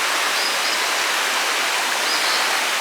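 River water rushing steadily through the Great Smoky Mountains, a dense, continuous broadband roar like a stream or small rapids, heard close and unbroken with no voices.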